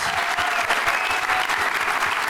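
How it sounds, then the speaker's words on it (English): A panel audience applauds three former New York Giants players, a dense, steady wash of clapping from many hands that holds evenly throughout without any talk over it. "How about a round of applause for these 3 great Giants?"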